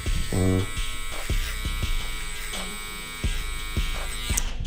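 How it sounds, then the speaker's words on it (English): Babyliss Flash FX electric hair trimmer running on a haircut, a steady close buzz broken by repeated brief clicks and knocks as it moves. "I'm going to take my Babless Flash FX for my soft trimmers"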